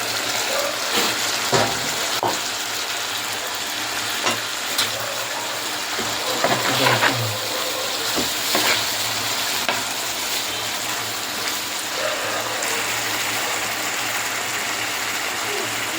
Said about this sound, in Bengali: ভাজি করা মাছগুলো ছেড়ে দিচ্ছি।